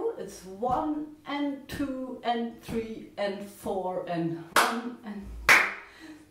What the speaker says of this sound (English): So I'm going to clap the rhythm for you.